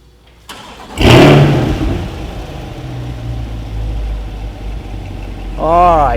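A mid-engine Corvette starts with a sharp crank and catch, then settles into a loud, rumbling idle with a deep exhaust note, swelling slightly before a voice speaks briefly at the end.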